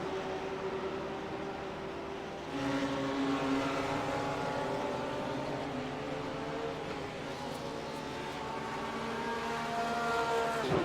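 GT3 race cars, a Porsche chasing a BMW at the Nürburgring GP circuit, engines droning steadily at a distance with rising and falling pitch as they run laps.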